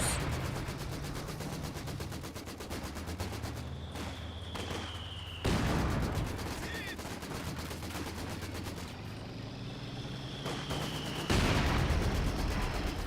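Mortar rounds and gunfire in a Company of Heroes 2 battle: a steady rumble of distant combat with repeated crackling shots, broken by two heavy, loud blasts and falling whistles, with no voices.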